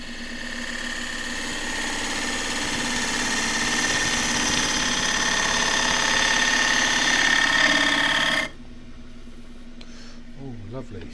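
Wood lathe turning a wooden tray, cut with a 3/8 deep fluted bowl gouge: a steady, loud whirring hum with a scraping hiss that runs continuously for about eight seconds, then stops abruptly into a much quieter low background.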